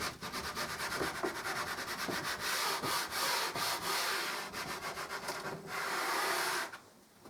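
Wooden edge hand-sanded with 240-grit paper to strip varnish, close rapid back-and-forth scratchy strokes in a steady rhythm that stop abruptly near the end.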